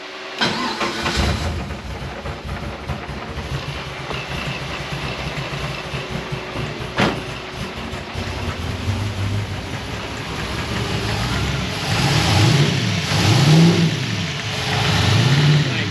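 A Nissan 350Z engine with running problems, a loud steady idle drone that swells into throttle blips toward the end, heard close up and alone.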